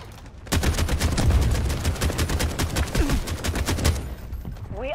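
Rapid automatic AK rifle fire in the video game Delta Force, loud and close, sustained bursts of sharp repeated shots filling most of the clip before cutting off near the end.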